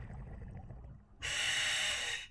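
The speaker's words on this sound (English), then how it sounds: "I'm breathing quite hard" A scuba diver breathing hard through a full face mask in Loch Fyne, Scotland: a low, muffled exhale rumble gives way to a loud, close hissing inhalation from the regulator.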